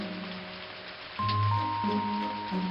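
Steady rain falls on a street beside a small tandoori chicken stall, a constant close hiss of drops with a low tonal hum rising partway through and no voices.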